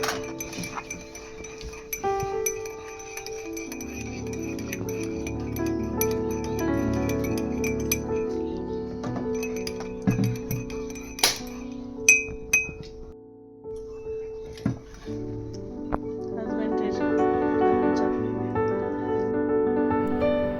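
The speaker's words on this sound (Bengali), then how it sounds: "চা ঢেলে দেবো।" Glasses and cups clink repeatedly during tea service at breakfast, sharp bright chinks scattered over a steady background with some pouring and faint movement, no clear speech.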